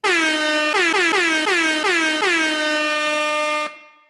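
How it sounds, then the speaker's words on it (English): A loud air horn blasts in a brassy multi-tone chord, held steady for about three and a half seconds with a few quick stutters early on, then cut off sharply, alone with no talk. "air horns are here."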